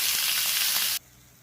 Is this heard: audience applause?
no